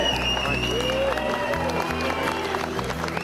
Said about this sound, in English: Give those guys a cheer